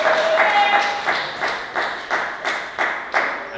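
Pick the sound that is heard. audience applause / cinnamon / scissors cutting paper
audience applause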